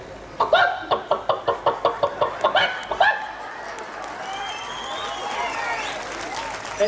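An audience at a live Himachali comedy show during the Baijnath Shivratri fair claps in a loud, rhythmic unison beat for about three seconds, then settles into a lighter scatter of applause and murmuring crowd noise.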